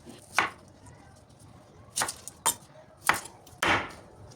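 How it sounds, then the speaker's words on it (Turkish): A knife cuts through small unpeeled onions on a board, trimming the ends and halving them: five sharp, separate chops spaced irregularly over a few seconds, with quiet pauses between them and no talk. "Soğanların uçlarını kesip ortadan ikiye bölüyoruz."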